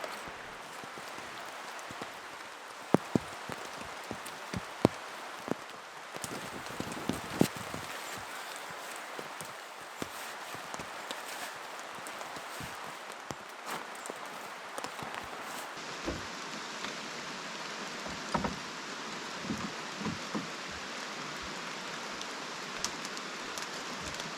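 Steady rain falls on a canoe-trip campsite in Algonquin, a continuous soft hiss with scattered close drips and taps throughout, and no one speaks.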